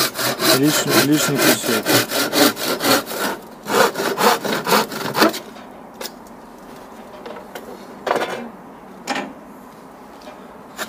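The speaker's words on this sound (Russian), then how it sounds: "И дальше ножовкой по-быстренькому отрезаем" A hand saw rapidly cuts off an excess piece of trim while insulating window reveals, making a quick run of rhythmic rasping strokes up close, followed by a few scattered knocks and scrapes as someone briefly speaks.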